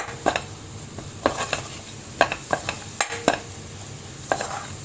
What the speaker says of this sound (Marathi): आता आपण राहिलेला जो मसाला आहे हा घालूया आता हलकसं परतून घेऊया